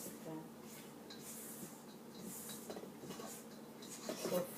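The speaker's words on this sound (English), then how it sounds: "So fold it in and just" Dry ingredients folded gently into peach banana bread batter in a bowl, giving soft, continuous scraping and light clinks of a utensil against the bowl, fairly quiet, with a brief louder knock near the end.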